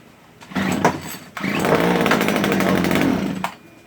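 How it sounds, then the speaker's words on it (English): A McCulloch GHT-17 hedge trimmer, choked and not run for a while, coughs briefly, dies, then fires and settles into a loud, steady, high-revving two-stroke buzz before cutting off. "Let's give it a shot and see what it does. We gotta put some choke on."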